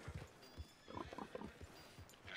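Horse in Red Dead Redemption 2 gives a short whinny and snort over a few soft hoof clops, fairly close, with a brief burst of brighter noise at the end.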